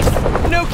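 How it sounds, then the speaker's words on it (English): Four helicopters in the Spider-Man 2 video game on PS5 give a steady, dense rotor drone that fills the short stretch, with game speech playing over it. "Apat na helicopter."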